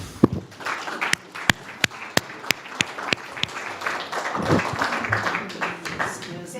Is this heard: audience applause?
yes